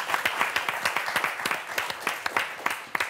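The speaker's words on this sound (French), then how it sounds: "Bravo, messieurs, on vous applaudit très fort." A TV game show studio audience applauds, brisk clapping from a modest crowd with individual hand claps clearly audible in a lively, close-up patter.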